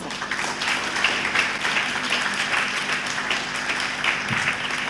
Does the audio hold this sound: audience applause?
yes